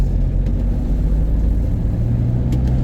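Car driving across the causeway onto Holy Island: a loud, continuous low engine and road rumble from inside the vehicle, steady throughout with no talking.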